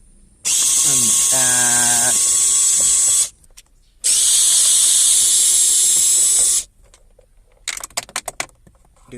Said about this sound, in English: everything you can use an electric screwdriver